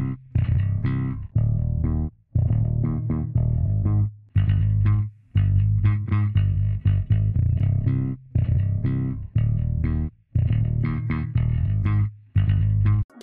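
Music passage processed through the Rift Clipper multi-band crossover distortion plugin, played in repeated phrases with brief gaps, loud and dense with gritty harmonic texture.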